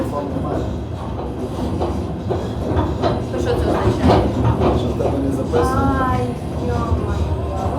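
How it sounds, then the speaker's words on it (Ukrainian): A passenger train rolling on rails inside a VIP carriage bound for Lviv, with a loud continuous low rumble and rhythmic wheel clatter throughout, and people talking faintly over it. "Поїзд класний."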